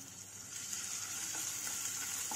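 Garlic, ginger and whole spices frying in ghee for a traditional mutton keema kabab, a close, continuous bright sizzle with light crackles throughout.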